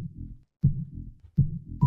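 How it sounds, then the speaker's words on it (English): A low, muffled heartbeat thumps in a steady double-beat rhythm, repeating about three times with no other sound; a beacon indicator in World of Warcraft Classic. "A little heartbeat is our beacon indicator."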